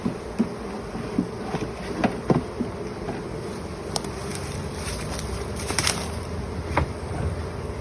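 Honey bees buzz around an open hive body during a beekeeping inspection, a steady insect drone with scattered close wing passes and faint taps, no talking.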